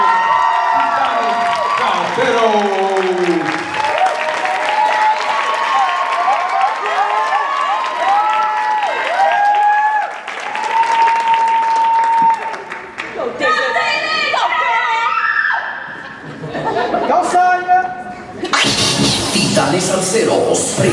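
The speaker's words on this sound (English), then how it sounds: "I want you guys to make as much noise as you always make for Einstein High School." Crowd cheering, screaming and applauding loudly for a high school group at a salsa dance congress, with shrill shouts rising over one another in waves and brief dips before the noise swells again.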